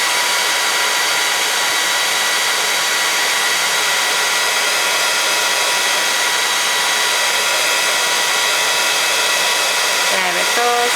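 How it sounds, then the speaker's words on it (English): A heat tool blows a steady, loud whirring roar while heat-setting embossing powder on a card, running continuously without pause. "grab our heat tool"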